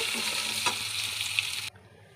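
Lightly boiled potatoes fry in a pan with a steady, close sizzle and a faint click or two, cutting off abruptly after under two seconds into near quiet.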